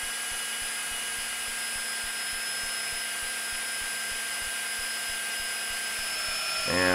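A drill bit bores into the drain plug of a Yamaha YZF-R3 motorcycle, giving a steady whining hum close up that changes pitch abruptly at the very end.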